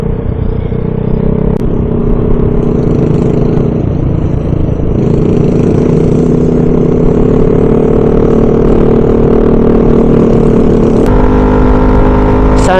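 Sunday road traffic at Marilaki near Tanay, with cars and motorcycles rumbling steadily and close throughout, engines droning in a continuous low wash with a few passing swells.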